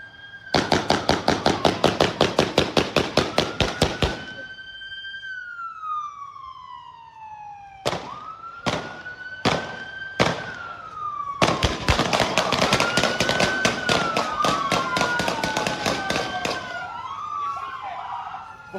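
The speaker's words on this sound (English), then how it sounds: "just dozens of gunshots in that spot" Dozens of sharp gunshots ring out during a police shootout with a suspect on North Cameron Street, firing in rapid dense volleys, pausing for a few spaced single shots, then resuming in another long burst while a siren wails throughout.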